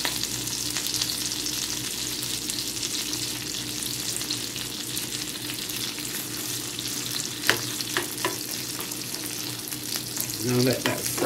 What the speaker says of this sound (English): Now let that fry up.